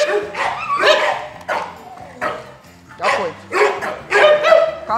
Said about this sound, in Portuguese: Olha como gosta de mim o cachorro, Rosa.